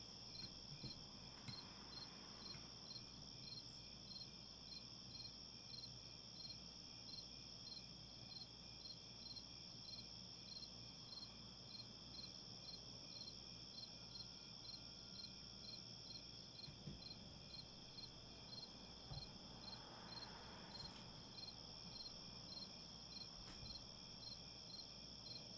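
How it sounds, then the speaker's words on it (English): Crickets chirp continuously in a dense, high, pulsing chorus over a quiet night background, steady and fairly faint throughout. "The crickets will keep you company."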